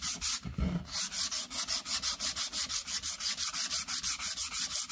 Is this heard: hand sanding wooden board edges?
yes